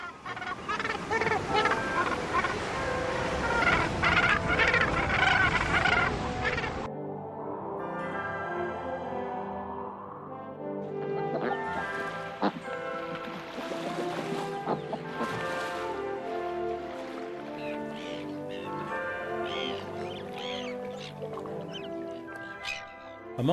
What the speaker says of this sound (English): Australian gannets home in on their colony, where the noise is often beyond deafening,